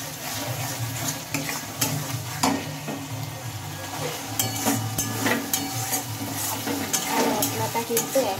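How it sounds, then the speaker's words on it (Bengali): A spice masala with a little sugar is stirred in a frying pan, making a loud, close sizzle punctuated by repeated spatula scrapes and clinks against the pan. "চিনিটা দিয়ে নিয়েছি, এবার একটু আমি নেড়ে চেড়ে নেব।"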